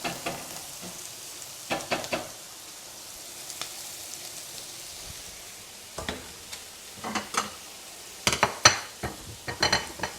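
Ingredients for million dollar spaghetti sauté in a pan with a soft, steady sizzle, broken by scattered sharp spoon clinks and stirring scrapes, a brief scattered group near the start and a denser cluster toward the end.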